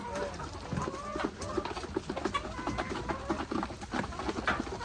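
Chickens cluck and chatter around feeding time, a busy stream of soft fowl calls and patter close by, steady throughout without much talk over it.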